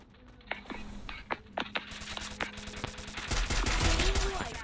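Gunfire in the Free Fire battle-royale game, several sharp single shots in irregular bursts, then a denser, louder stretch of rapid firing toward the end over continuous game noise.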